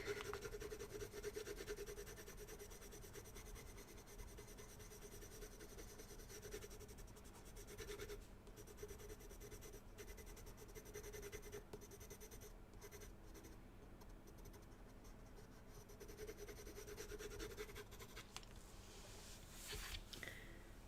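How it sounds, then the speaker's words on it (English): A pencil scratches steadily on paper laid over a hollow piece of wood raised off a desk, a faint continuous rasping that is quiet and close, running for about twenty seconds. "So you can hear me scratching my pencil a little bit more."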